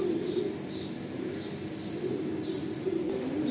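Madrasi and Andhra pigeons in a loft make a soft, continuous low cooing murmur, with brief higher chirps scattered over it.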